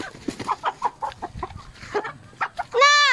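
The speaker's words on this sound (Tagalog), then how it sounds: "Ito na ating mga manok. Belgian shamo." A large Belgian Shamo rooster on a farm gives a series of close, loud clucks and short calls, ending in a drawn-out harmonic crow-like cry.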